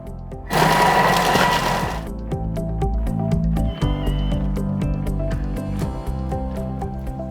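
A Thermomix TM6 chops garlic and ginger at speed 5 for a few seconds: a loud, dense grinding whir that starts abruptly, runs about a second and a half, then stops, leaving clattering rhythmic music behind it.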